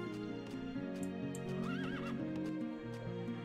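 A horse neighs in the strategy game Rise of Nations, one clear whinny with a faint clip-clop over continuous game music.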